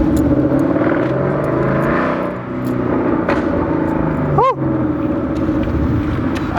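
A car's exhaust rumbles at close range with a low, steady burble and a few short revs rising and falling in pitch.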